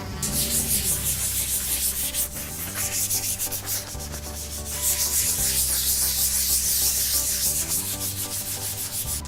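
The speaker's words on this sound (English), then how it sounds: "100 grit sandpaper, lightly go over the entire laminate or Formica area to get it ready for the ECS system" Steady back-and-forth rasp of 100 grit sandpaper rubbed by hand over a laminate Formica countertop, close and continuous with a rhythmic scratching texture.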